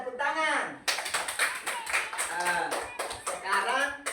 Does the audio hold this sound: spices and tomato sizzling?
no